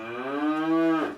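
A cow moos once in a long, rich, harmonic low call that rises slightly and then fades, heard close and alone without any talking.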